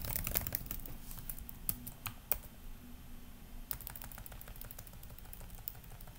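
Fingers type on a computer keyboard while someone builds a Java Swing GUI in IntelliJ IDEA. Soft, irregular key clicks come in quick runs, with a few sharper, louder taps standing out.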